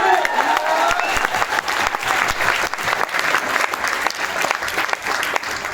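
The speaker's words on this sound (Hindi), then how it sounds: "तालियां बजा दो, दम लगा दो" Audience applause, a steady rush of clapping from a crowd at moderate loudness, with a few sharper individual claps standing out and faint voices underneath.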